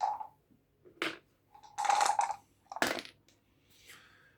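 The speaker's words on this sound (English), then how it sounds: "And this one rolls 2 dice." Dice clatter and tumble across a table during a Memoir '44 board game, several short sharp rattles in quick bursts, near and fairly quiet, with no talk.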